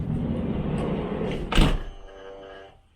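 A VW Transporter T6 sliding side door's soft-close motor whirs, then the door pulls shut with a single solid thunk, followed by a brief fading mechanical hum, close and clear with no talk.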